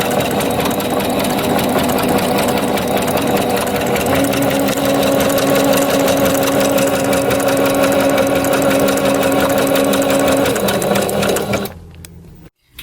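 A sewing machine stitches a handbag with blue top and bobbin thread, running in a steady, fast mechanical whir with a rhythmic needle clatter for about eleven seconds, then stopping suddenly.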